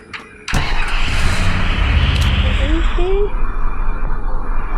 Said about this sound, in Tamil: இந்த வண்டி இருக்குங்க, வண்டியிலே ஊரை சுற்றுவோம்.